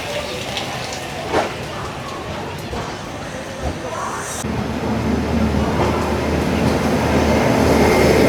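The Ratnachal SF Express rumbles out of Vijayawada Junction, heard from inside the carriage, with a few soft knocks early on and a broadband roar that grows louder and denser toward the end.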